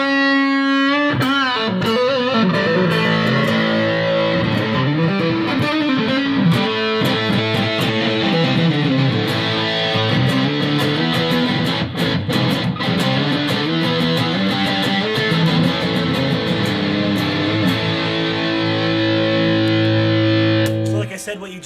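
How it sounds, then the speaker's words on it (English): Thick, heavily fuzzed electric guitar through a JHS Big Muff-style fuzz pedal, all controls at 12 o'clock, chugging riffs and sustained chords, loud and saturated throughout, with no talking. "What you just heard was a JHS circuit, all controls at 12 o'clock."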